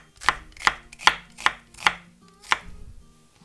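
Six sharp, evenly spaced knife chops through an onion on a cutting board, loud and close, while making summer eolgari kimchi, with a faint hum between strokes and no talking.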